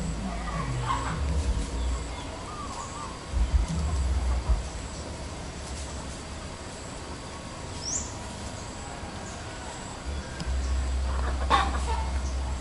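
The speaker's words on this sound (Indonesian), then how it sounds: "Di sana ada ayam-ayam." Chickens cluck faintly outdoors in daylight, a few soft calls scattered over a steady background of wind and ambient noise.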